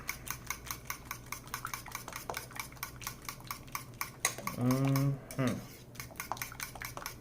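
Whisk rapidly clacking against a bowl while milk is beaten into French toast batter, a fast regular metallic ticking that continues throughout, briefly interrupted by a voice near the middle.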